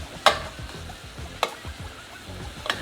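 Garlic shrimp frying in a pan for a lemon cilantro butter sauce, a steady low sizzle with three sharp clinks of a utensil against the pan.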